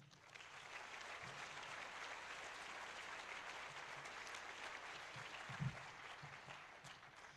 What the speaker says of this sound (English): So can we get a round of applause for DC 801?